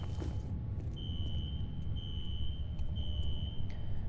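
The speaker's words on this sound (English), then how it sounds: "A fire alarm." A fire alarm in the PC game F.E.A.R. sounds as a piercing electronic tone in repeated long pulses over a steady low rumble of background game ambience.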